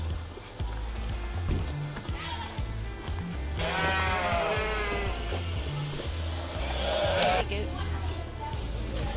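A herd of goats bleats repeatedly while being driven along outdoors, calls overlapping near and loud, with a person talking over them.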